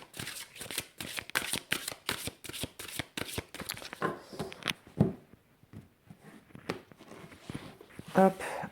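Tarot cards are shuffled in a fast, crisp riffle of rapid papery flicks close to the microphone, then the rhythm slows and breaks off as a single card is pulled from the deck with a soft slide.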